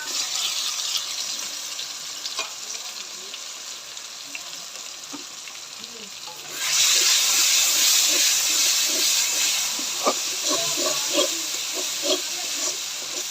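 Tomato and spices sizzle in a pan while being cooked down for a vegetarian aloo dum, a steady hissing fry that jumps noticeably louder about halfway through and keeps crackling with small pops to the end.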